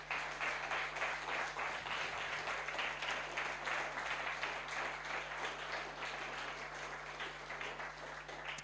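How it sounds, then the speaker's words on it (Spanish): Applause from a church congregation after a sermon, steady dense clapping filling the room at moderate distance, with a faint steady hum underneath throughout. "Y le doy un fuerte aplauso al Señor."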